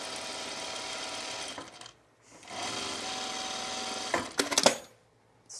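Sewing machine running an easing stitch along a seam line on a top with tucks: a steady close mechanical whir, a short pause, another long run, then a brief burst before stopping.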